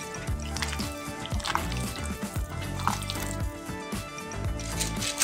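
Chicken pieces are mixed with cornflour by hand in a bowl, giving soft, continuous wet squishing and sticky patting sounds, close and steady.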